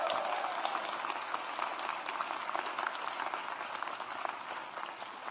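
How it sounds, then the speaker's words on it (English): An audience at a 2023 Asian and Pacific Islander graduation ceremony applauds, sustained even clapping from a sizable crowd that fills the whole stretch at moderate volume. "How about a round of applause?"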